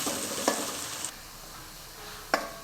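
Onions with chili frying in a pan for a homemade Indian rasam, a steady soft sizzle with two brief stirring scrapes, close and alone without any voices.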